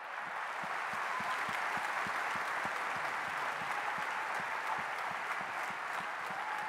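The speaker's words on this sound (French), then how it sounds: "Mesdames et messieurs, je crois que vous pouvez applaudir Peter Sagan." Audience applause for cyclist Peter Sagan at a Vendée cycling event, a steady, even roar of many hands clapping throughout, moderately distant, with no talk over it.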